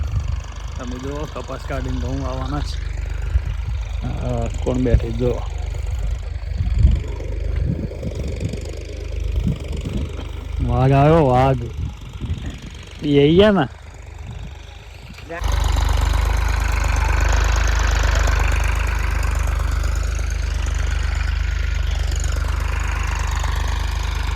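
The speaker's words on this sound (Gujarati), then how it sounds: "ટ્રેક્ટર આવ્યું છે ખેડવા માટે ખેતરમાં" People talk over a low engine hum, then a tractor engine grows loud and steady, rumbling close by while ploughing a field for wheat sowing for the remaining stretch.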